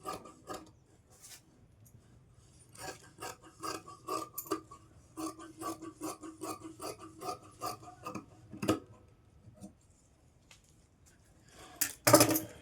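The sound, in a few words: cutting fabric for a girl's palazzo top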